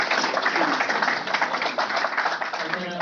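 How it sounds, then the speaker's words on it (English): An audience at a career talk on AI claps continuously through the whole moment, a dense, even wash of applause with some voices mixed in. "let's give a round of applause to Piyush leadership."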